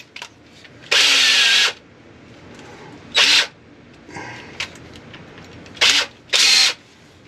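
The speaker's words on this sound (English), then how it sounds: "you can take your pilot bit, put it in your drill" Several short bursts from a drill fitted with a pilot bit, one longer run followed by quicker pulses, close up with no talking.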